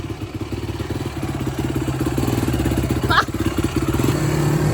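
A dirt bike engine hums and putters steadily while being ridden, rising in pitch and intensity partway through, close to the rider, with a brief voice heard over it.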